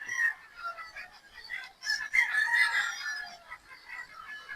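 A rooster crows nearby, a drawn-out call rising and falling, with other fowl calling faintly around it.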